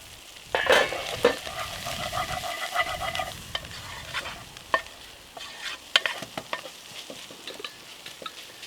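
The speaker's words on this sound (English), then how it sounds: "let's let that cover for a little while and let the pork just cook out" Minced pork cooking in a pan with coconut rice crepe fixings, giving a sizzling, frying hiss with scraping stir strokes and sharp clatters of a utensil against the pan, close up and without talking.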